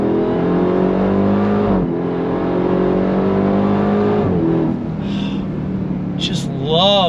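Engine of a Dodge Durango Hellcat Hammerhead SUV on a racetrack, loud and close, with rising harmonic tones climbing twice as it revs toward red line, then braking and downshifting near the end.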